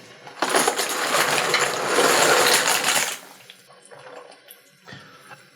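Dry rigatoni pasta, a pound of it, pours into a pot of water with a dense clattering rush for about three seconds, followed by quieter stirring and light clinks.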